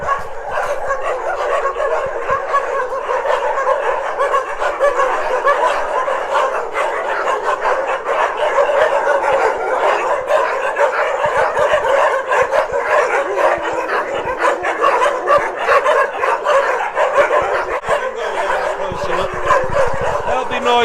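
Many dogs bark and yip together in the kennel runs of the Soi Dog Foundation shelter in Phuket, a dense, continuous, loud chorus that lasts throughout.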